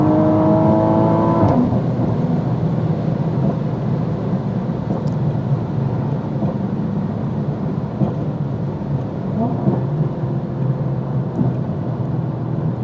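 Heavily modified 700-horsepower MK5 Toyota Supra pulling hard, a loud continuous engine roar that rises in pitch during the opening seconds, then holds steady with strong road and wind noise, no talking.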